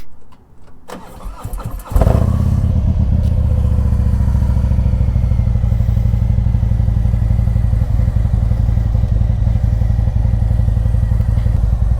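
A Harley-Davidson Street Glide motorcycle with T-bar handlebars fires up after a brief crank, then settles into a loud, steady, close idle with a deep rumbling throb that continues to the end.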